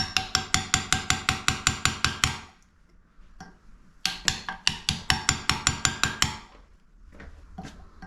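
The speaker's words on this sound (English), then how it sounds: "She's tapping it inward." Rapid regular metallic tapping as a part is knocked into place during a toilet installation, two bursts of steady quick taps separated by a short pause, close and fairly loud with no talking.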